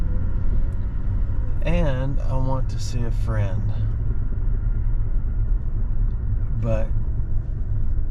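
A station wagon driving, giving a steady low engine and road rumble throughout, with someone talking over it.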